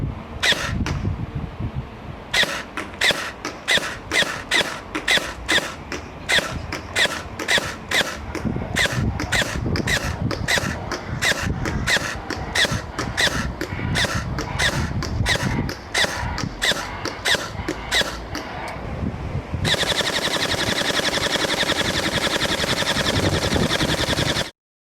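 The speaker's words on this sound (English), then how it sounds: "Shooting test for the ARP 556." A G&G ARP 556 airsoft rifle fires BBs in a fast run of sharp, evenly spaced shots, near and loud, ending in a dense continuous burst.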